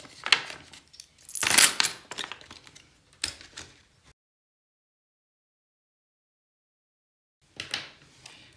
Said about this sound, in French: vu que c'est des pièces, je les mets dedans